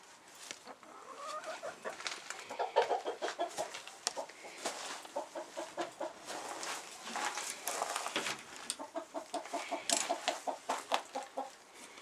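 A one-legged hen with a dislocated back leg clucks on a livestock farm, giving a steady run of short, close clucks that continue throughout with no talking.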